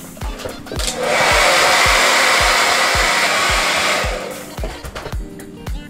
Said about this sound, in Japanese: 塗り終わったのでちょっと今からドライヤーかけます。